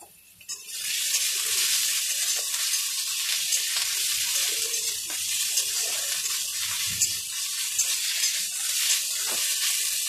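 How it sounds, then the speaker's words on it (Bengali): Garlic and ginger paste frying in a pan for a lentil-ball curry, giving a loud, steady sizzle with occasional stirring scrapes that runs almost the whole time after a quiet start. "এটাকে ভালোভাবে ভাজা ভাজা করে নিতে হবে যাতে রসুনের কাঁচা গন্ধটা চলে যায়"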